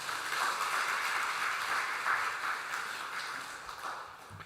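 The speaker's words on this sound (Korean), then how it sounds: "다 같이 큰 박수로 우리 목사님 맞이하겠습니다." Church congregation at an early-morning revival service applauding to welcome the pastor, a soft, steady patter of many hands clapping heard from a distance, fading slightly toward the end.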